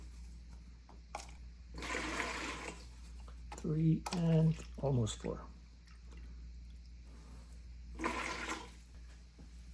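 Plaster powder and cold water pour into a bucket in soft, grainy rushing bursts, separated by pauses, while a person talks and counts over them.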